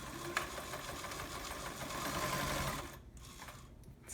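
An Omega Ultra 2000 sewing machine stitches in reverse with a steady, fast mechanical whirr that runs close and even for about three seconds, then drops off into short quieter bursts.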